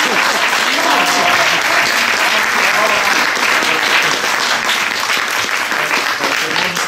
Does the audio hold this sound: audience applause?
yes